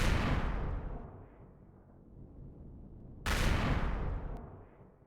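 Two heavy weapon blasts aimed at a tank on a dark planet in Empyrion: Reforged Eden 2, each a loud booming report with a long rumbling decay, the second coming about three seconds after the first.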